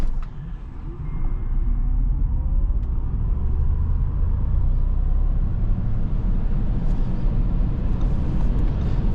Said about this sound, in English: you want to see some acceleration, some more outside footage, and yeah, please enjoy with me the Q8 Dakar edition